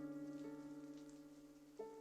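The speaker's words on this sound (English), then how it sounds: "Rain." Steady rain hisses continuously at a moderate level, with sustained tones droning underneath.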